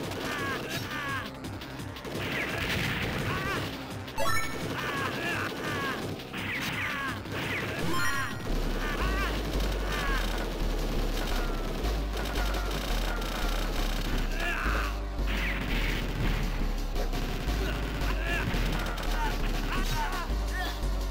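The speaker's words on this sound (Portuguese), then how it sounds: "Ela manda um rocket launch." In the Shock Troopers arcade game, an enemy fires a rocket launcher amid constant explosions, gunfire and smashing hits layered over driving game music, with someone talking throughout.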